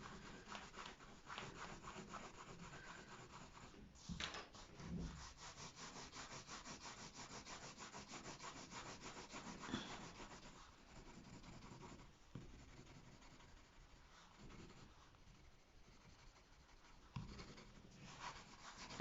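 Pencil rubbing steadily across paper while colouring in and shading an isometric drawing of a candle holder, a soft continuous scratchy stroking, faint and close, with brief pauses and no talk.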